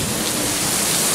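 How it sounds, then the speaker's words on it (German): Hail pours down in a thunderstorm, a dense, loud, unbroken hiss and rattle of pelting ice close by, steady throughout. "hier kommt Hagel runter"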